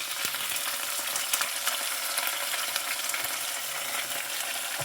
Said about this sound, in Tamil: இப்போ இதை வந்து நல்லா கிண்டி விட்டுக்கலாம்